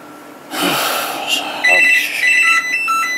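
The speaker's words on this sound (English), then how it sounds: "Well, there's the phone" A home telephone rings with repeated electronic tones, moderately loud and close, starting after a brief rustle of movement.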